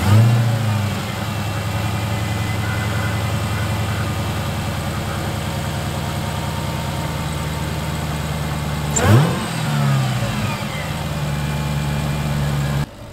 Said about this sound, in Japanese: エンジン始動で軽くエンジン、アクセルを吹かしてみたいと思います